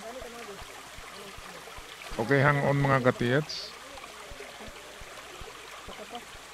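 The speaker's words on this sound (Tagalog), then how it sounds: "At very relaxing yung tunog ng tubig." Water flows steadily from a small waterfall in a cave, a constant rushing wash heard close by, while someone speaks briefly over it in the middle.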